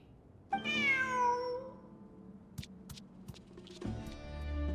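A cat in the video game Genshin Impact lets out one clear, drawn-out meow near the start, followed by a few soft clicks and a second, fainter vocal sound toward the end.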